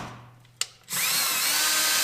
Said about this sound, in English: we're going to drill out that hole to a 17/32 drill bit